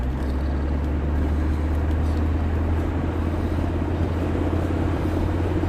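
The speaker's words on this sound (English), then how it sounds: "I'm going to try to get a downshift" A 1983 Mercedes-Benz 300D diesel with an automatic transmission accelerates hard and downshifts. A steady low engine drone runs close and continuous, and its tone shifts partway through as the gear changes.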